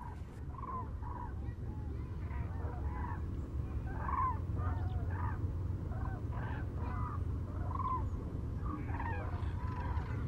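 A large flock of common cranes calls at Lac du Der, many overlapping bugling honks repeating across the whole stretch over a low background rumble, moderately loud and with no talk.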